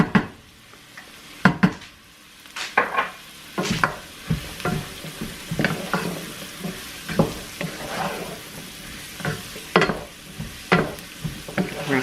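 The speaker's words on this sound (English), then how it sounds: "We're going to saute this up for just a couple more minutes." Garlic sautéing in a pot as the base for an old-fashioned cabbage soup: steady close sizzle broken by repeated clinks and scrapes of a big spoon stirring against the pot, with no talking.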